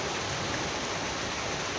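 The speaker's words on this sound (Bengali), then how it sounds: "এদিকে বৃষ্টি হচ্ছে" Steady rain falling, heard from a rooftop as a continuous broadband hiss with no breaks, moderately loud and even throughout.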